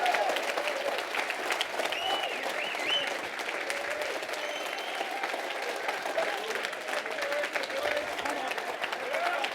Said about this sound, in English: can everybody give me a proper round of applause just to help me build the energy?